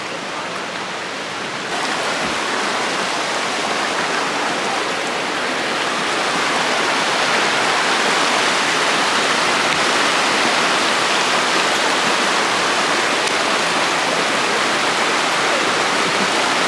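Water of Shingle Creek rushes steadily over rocks, a loud, close, unbroken wash that swells slightly after the first seconds, with no talk over it.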